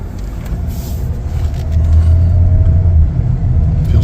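2025 Chevrolet Equinox LT AWD on a test drive, a low steady road and engine rumble heard from inside the cabin that swells slightly louder midway, with a faint tonal whine and no talking.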